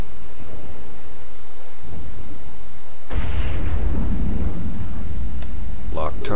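Ship weapons firing at a locked target in EVE Online: a quiet hum, then a sudden heavy booming blast around the middle that rumbles on loudly, with a few sharp crackles near the end.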